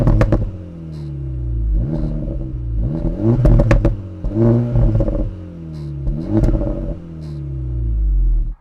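An Acura Integra Type S exhaust revs repeatedly at close range, rising and falling engine sweeps punctuated by sharp pops and crackles on the overrun.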